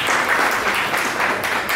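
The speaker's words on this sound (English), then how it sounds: "Last round of applause to welcome the musicians and to welcome the Foley Jazz Project." Steady, dense applause from an audience welcoming a school jazz ensemble, a continuous wash of many hands clapping at moderate distance without pause.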